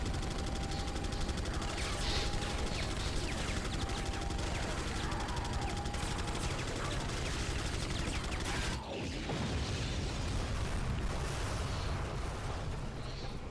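Sustained heavy gunfire from Mike's helicopter cover fire in Resident Evil 4, a dense, continuous roar of machine-gun bursts and explosions filling the whole stretch, with a brief dip near the end.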